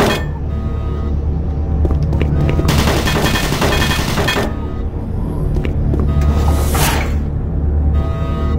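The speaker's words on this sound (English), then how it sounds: "Warning. Automated turret guns online." Rapid machine-gun bursts from automated turret guns in Doom 3, loud and close, in a continuous volley with short lulls between heavy barrages.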